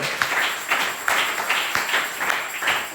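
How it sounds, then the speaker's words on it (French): A church congregation clapping together in a steady rhythmic beat, about two claps per second, the group applause close and fairly loud with no talk on top. "Applaudissez pour le Seigneur."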